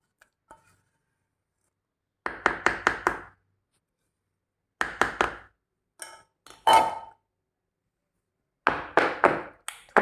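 Bursts of quick, sharp taps on a metal cake pan, several short clusters separated by silence, close and fairly loud.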